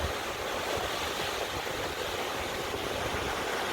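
A waterfall at a lake in Kerala, where water drops about 81.5 feet, giving a dense, continuous rushing roar that holds steady and fairly loud with no voices.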